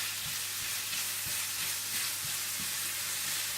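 Carrots with sugar and ground cardamom fry steadily in a pan over low heat, a constant soft sizzle broken by light rhythmic stirring taps.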